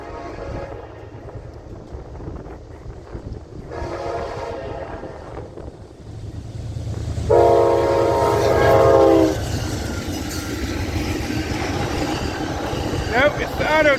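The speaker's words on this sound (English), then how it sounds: "Nope, it's the auto train." An Amtrak Auto Train rumbles past a historic station in Palatka with a loud horn blast in the middle, steady rolling noise throughout, and brief voices underneath.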